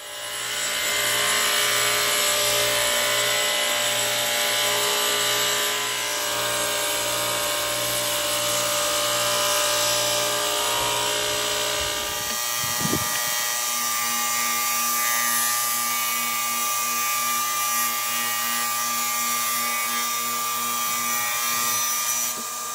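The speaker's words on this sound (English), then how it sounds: "I set the saw depth to leave about 3/8 of an inch of wood remaining" Power saw cutting a wooden board for sailboat spreaders on a Catalina 30, a loud continuous high whine that drops in pitch and shifts as the cut changes, then carries on steadily.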